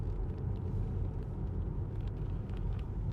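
Inside a 2016 Range Rover Evoque 2.0 TD4 HSE Dynamic automatic 4WD diesel, a low engine and road rumble drones steadily while the car drives along. The rumble stays even and muffled, with no speech over it.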